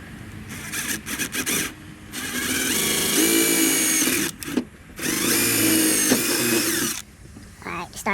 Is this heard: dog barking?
no